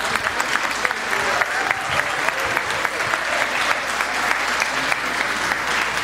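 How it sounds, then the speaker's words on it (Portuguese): A hall full of people applauds steadily and loudly during a talk, a dense, continuous clapping that holds evenly from start to finish. "Por que vocês estão aplaudindo?"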